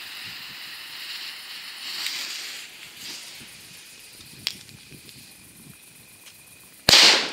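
A single sharp, bright firecracker bang from a Zeus banger near the end, loud and close, after several seconds of low crackling background noise.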